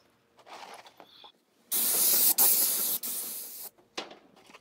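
Spray gun applying coating to a roof during restoration, with a board shielding the gutter from overspray: a loud, steady hissing blast that runs about two seconds, cuts out briefly, then resumes, with quieter rustling before and after.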